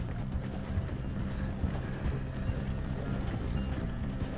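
A horse galloping in Red Dead Redemption 2, steady rapid hoofbeats under a continuous low rumble of game ambience, with no talking.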